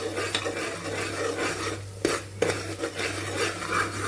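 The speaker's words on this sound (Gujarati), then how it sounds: "આમાં થોડા લીલા ધાણા પણ સાથે સાતળવામાં ઉમેરશું" Masala being sautéed with green coriander in a pan for a mixed vegetable shaak, with steady scraping and stirring over a low hum and a couple of sharper utensil knocks.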